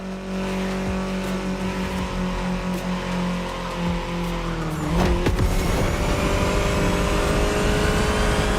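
A BMW M4 Liberty Walk Edition races in The Crew Motorfest, its engine droning steadily with a rising rev and tire squeal near the middle, loud and close throughout.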